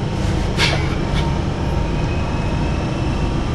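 A London Underground train at Swiss Cottage station rumbles loudly and steadily with broadband roar and a couple of brief hissing bursts near the start.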